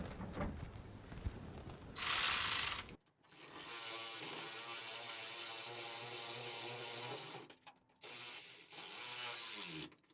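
Nylock nuts on a Redarc dual battery tub mount in a 2017 Mitsubishi Triton MR being tightened with a tool, a brief burst then long steady whirring runs with a short gap, close and fairly loud, no talking.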